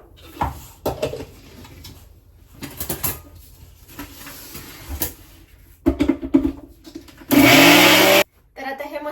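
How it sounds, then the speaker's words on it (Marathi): A mixer grinder grinds sugar in one loud, roaring burst of about a second near the end, after scattered clinks and kitchen handling noises. "मिक्सरमध्ये अर्धी ह्याच्यातली साखर आपल्याला ऍड करायची आहे पहिले मी हे बारीक करून घेते सगळं"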